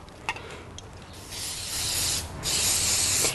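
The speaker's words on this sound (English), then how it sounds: "instead of olive oil, I'm going to use some olive oil spray" Olive oil cooking spray hisses from a can over asparagus in a kitchen, with a couple of short puffs followed by longer, close spray bursts.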